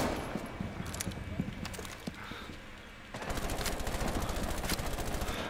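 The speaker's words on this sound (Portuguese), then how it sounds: "deu um tiro de pistola na cara do Buck" Rapid bursts of gunfire crack through a round of Rainbow Six Siege, including pistol shots, with voices talking over the action, quieter at first and then louder and denser toward the end.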